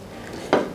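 A dish clinks as it is taken out with a roast beef, one short, sharp clatter of ceramic against metal over faint kitchen background noise.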